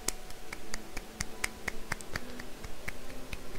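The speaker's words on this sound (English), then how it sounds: "Let's do our golf clap." Golf clap emote in the video game Oblivion: a steady run of light, sharp claps at an even, unhurried pace, close and moderately loud, with no talking.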